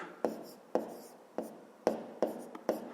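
Pen writing numbers by hand on paper for a fifth-grade maths exercise, heard as six short sharp scratchy strokes spaced at an uneven rhythm, close and fairly quiet, with no talk.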